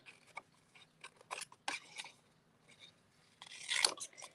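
Scissors snip around a stamped paper sentiment in small fussy cuts, giving soft crisp clicks in an irregular rhythm, close and quiet, ending with a louder flurry of snips.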